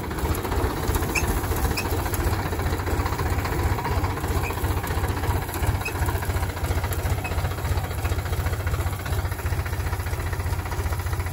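A heavy vehicle's engine runs steadily in second gear, a dense low rumble with a continuous mechanical chatter, loud and close throughout with no pauses.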